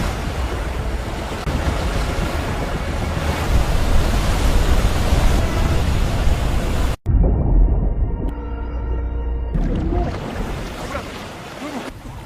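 Heavy rushing water from a waterfall in a film scene, a loud, dense roar that cuts off abruptly midway, leaving a quiet, tonal passage before the rushing sound swells back in.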